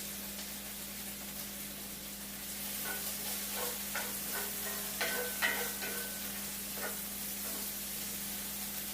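Mushrooms sizzle and crackle in a hot frying pan as a utensil stirs them, with steady frying hiss and scattered louder pops and scrapes, close by and without voices.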